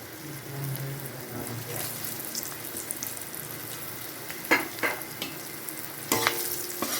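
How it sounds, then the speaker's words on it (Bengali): Papaya added to fried potatoes in a pan for a chicken curry, a soft, steady sizzle with a few sharp clatters and scrapes as the pieces are stirred, fairly quiet overall. "আলুটা ভাজা হলে এবার পেঁপেটা দিচ্ছি"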